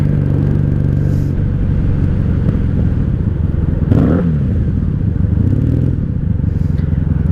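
A 1997 Honda Magna 750 VF750C motorcycle engine idles steadily after a wreck rebuild, a loud, close, even rumble with a faint ticking in the carburetion, holding constant with a brief swell around midway.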